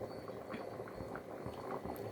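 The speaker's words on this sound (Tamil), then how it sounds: "நல்லா கொதிக்க ஆரம்பிச்சிருச்சு." A pot of rajma (kidney bean) curry bubbles and simmers steadily, with soft popping and gurgling close by.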